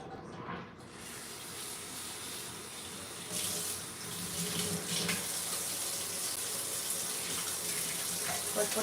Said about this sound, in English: I gotta wash the pot real quick